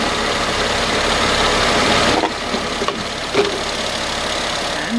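A Mercedes C240 engine idles steadily with the hood open, a dense broadband rumble and hum with a couple of brief dips and small knocks, close and constant.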